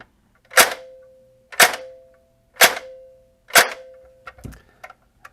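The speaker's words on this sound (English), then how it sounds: "It has the DSG gearbox in now with the 30K brushless warhead motor, and we're gonna see what kind of amperage we get on semi-auto. Here we go." An airsoft P90 fitted with a DSG gearbox and a 30K brushless motor fires four evenly spaced semi-auto shots, each a sharp close crack with a short mechanical tail, followed by a few softer clicks.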